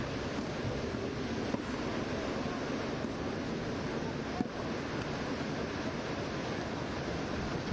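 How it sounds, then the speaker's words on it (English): Strong wind gusts roar across an outdoor tennis court during a match, a steady, dense rushing noise buffeting the microphone throughout. "There's that wind."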